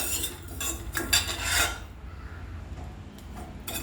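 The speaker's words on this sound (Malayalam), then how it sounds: "എള് വറുക്കാൻ പോവുകയാണ്" Small seeds scrape and rasp against a metal pan as they are stirred, a busy scratchy sound that settles into a quieter sizzle.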